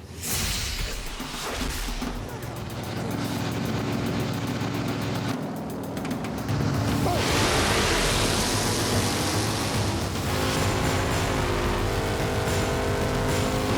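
A nitrous-fed drag racing car engine roars past at a drag strip, loud and close, rising into a harsh revving blast and whoosh with sustained engine tones after, no talk.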